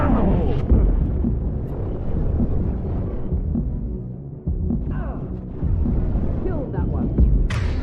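Grenade explosion in Mass Effect 2 Legendary Edition: a heavy, rumbling low boom that stays loud throughout and leaves a throbbing tail, with no talk over it.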